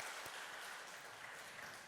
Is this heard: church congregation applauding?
yes